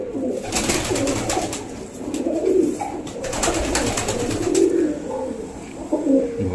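Rampuri high-flyer pigeons coo in low, rolling bursts, several calls repeating over steady background bird noise, with a few sharp higher chirps and taps scattered through.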